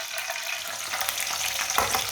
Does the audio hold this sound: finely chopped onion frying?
yes